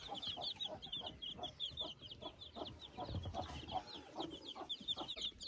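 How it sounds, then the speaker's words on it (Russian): Broody hen clucking repeatedly among other chickens in a backyard flock, a steady run of short clucks with rooster-like calls mixed in, fairly close and continuous with no talk. "моя квочка не сидит на месте"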